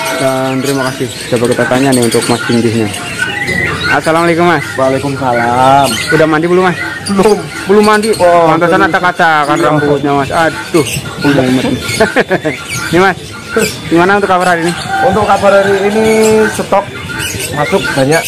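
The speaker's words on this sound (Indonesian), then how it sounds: "Burung tadi yang masuk kenari gacor, kenari bahan, perkutut." Canaries and zebra doves chirp and coo in a bird kiosk at a market, faint and partly masked under continuous close conversation between two men.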